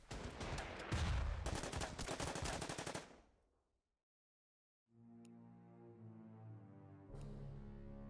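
Rapid machine-gun fire rakes a bunker in the wartime strategy game Order of Battle: Blitzkrieg, a dense loud burst lasting about three seconds before fading, then a low droning tone and a later thud.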